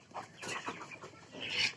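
Chickens clucking close by, a busy run of short, uneven clucks and calls with a higher squawk near the end.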